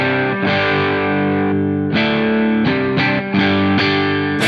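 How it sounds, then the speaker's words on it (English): An electric guitar through a Cornford Harlequin amp at its clean edge-of-breakup tone strums a few ringing chords, slightly gritty, warm and just breaking up, loud and close with no talking. "It's perfect for those sort of clean on the verge breakup sounds."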